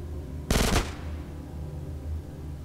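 A short, loud burst of rapid automatic gunfire in the video game GTA San Andreas, about a third of a second of cracking shots over a low background hum, then quiet.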